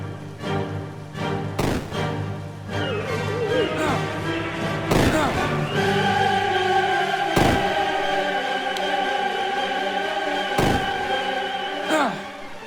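Explosions in an indie video game: several sharp, punchy thuds and booms spaced a few seconds apart over a layered, sustained game soundtrack.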